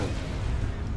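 Starships exchange fire in a Star Wars space battle game, a dense, loud, rumbling barrage of booming weapon blasts with no break in it.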